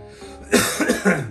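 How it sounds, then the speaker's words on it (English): A few harsh coughs close by, coming in quick separate bursts after a quiet start. "I'm getting all coughed out."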